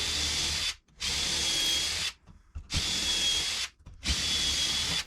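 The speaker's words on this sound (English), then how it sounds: "And then I can drill into the handle through the body base." A power drill whirring into wood in three long bursts, stopping briefly between each run, loud and close.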